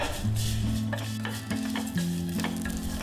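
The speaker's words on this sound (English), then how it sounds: "I will first roast half a cup sevaiyan and some nuts in the ghee" Vermicelli (sevaiyan) and nuts roasting in ghee in a pan, giving a steady close sizzle with scraping stirs and a few light utensil clinks, steady background music, no voices.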